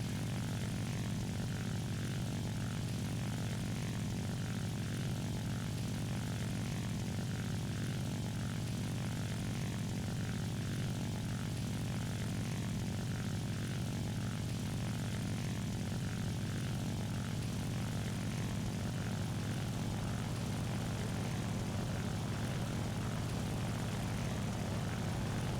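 A J2M2 propeller fighter's engine drones continuously in an aerial combat game during a dive, a steady loud buzzing roar with little variation throughout.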